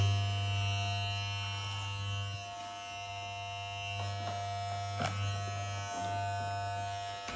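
An electric razor buzzes steadily while cutting a young child's hair, the hum dipping and changing briefly as it moves through the hair, with a few faint clicks and handling noises.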